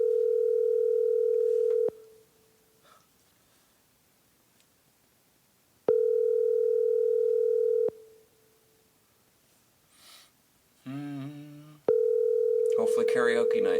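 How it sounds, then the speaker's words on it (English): Phone ringback tone: steady two-second buzzes separated by silences, repeating three times, with a short burst of talk near the end. "calling him right now. It's ringing."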